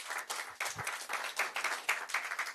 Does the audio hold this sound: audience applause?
yes